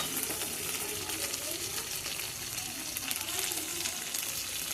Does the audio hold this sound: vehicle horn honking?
no